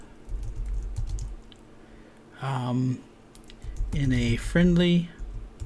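Computer keyboard typing in quick soft clicks while writing a prompt into ChatGPT, tapping in short runs that alternate with and sit under someone speaking.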